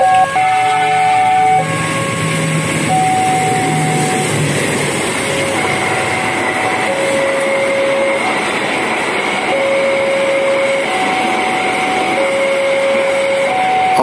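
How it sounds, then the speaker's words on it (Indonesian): The Argo Parahyangan passenger train rumbles steadily through Cimindi station without stopping, loud and continuous, with a horn-like tone sounding repeatedly over the noise. "kereta api Argo Parahyangan sudah melintas langsung stasiun Cimindi"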